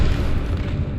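A lock being smashed open in the 2008 survival horror game Dead Space, heard as a short, heavy, booming burst with a dense low rumble that fills about a second.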